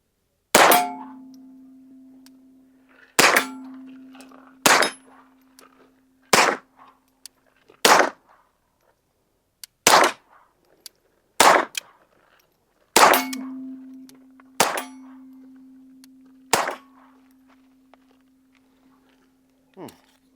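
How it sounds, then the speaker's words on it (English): Suppressed gunshots fired through a Shadow Silencers Duo Mini with only the blast chamber and end cap fitted, about a dozen sharp cracks spaced a second or more apart, several followed by a ringing metallic ping from steel targets. "So he's going to shoot it with just the blast chamber and the end cap only. Let's see how that sounds."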